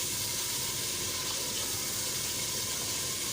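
Water hits a hot pan of frying chicken with a loud, steady sizzle, a continuous hissing crackle that holds without pause.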